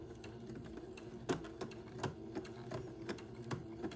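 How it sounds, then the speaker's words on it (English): A sewing machine zigzag-stitches gathered lace onto entredot for a heirloom dress: a quiet, rapid mechanical stitching patter with sharper needle clicks at irregular intervals and no talking. "sewing the lace to the entredot, the gathered lace"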